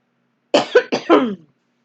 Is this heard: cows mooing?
no